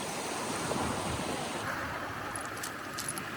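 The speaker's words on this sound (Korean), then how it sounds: "파도가 칠 때마다 물보라와 함께 아름다운 소리가 들린다." Waves wash onto a Caribbean beach made of coral fragments instead of sand, a continuous rushing surf with wind, and a light clinking, jangling rattle of coral pieces as the water recedes.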